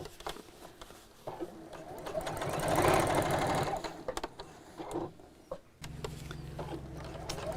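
A sewing machine stitches a seam on a cross body bag in several runs of varying speed, with pauses, mechanical clicks and a louder stretch in the middle; a voice talks in places.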